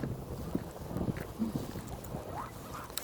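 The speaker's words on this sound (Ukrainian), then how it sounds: "Вітер дує." Steady wind gusts rumble and buffet against the microphone outdoors, a low continuous roar with a few louder bumps.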